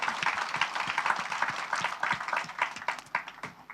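A church congregation claps during a sermon, a moderate burst of scattered, uneven applause at middle distance with a few voices under it.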